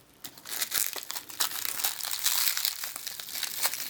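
Crinkly plastic blister packaging of a Bakugan toy being cut and torn open, dense rustling and crackling close to the mic with sharp snaps throughout, no talking.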